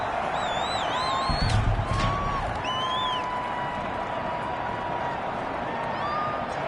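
A large video game stadium crowd in Madden 21 roars in a steady wash of noise, with a brief louder swell near the start and faint whistles above.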